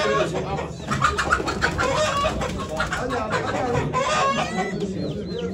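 Chickens and a rooster cluck and squawk continuously in a crowded poultry auction stall, close and fairly loud, with voices talking underneath the birds.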